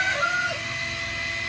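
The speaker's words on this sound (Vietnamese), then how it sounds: "Đó, gà Đông Tảo đấy anh em." A Dong Tao rooster, the heavy-legged Vietnamese breed, gives a brief crow at a farm, a short tonal call of moderate loudness.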